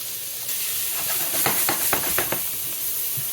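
Morel mushrooms sizzle in a knob of unsalted butter in a hot pan, a steady hiss with a string of small crackling pops bunched in the middle.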